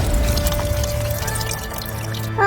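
Coolant water pours out of a Skoda engine during a water pump and timing belt change, a continuous trickling, splashing flow close by, with a brief sharper burst near the end.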